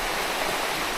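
A stream on a Maui hike rushes steadily, a continuous broad watery hiss that is close and fairly loud, with no voices.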